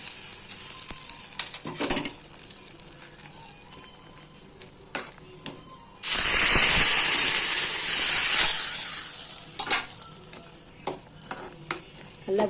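Curry leaves hit hot oil for tempering while chayote kootu cooks, bursting into a loud sizzling hiss that slowly fades, amid scattered stirring clinks and scrapes from the pan.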